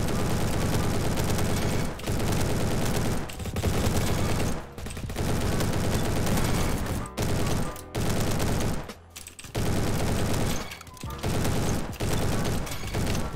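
Dense, continuous gunfire in a shooter video game, rapid loud shots and bursts packed together with only brief gaps throughout.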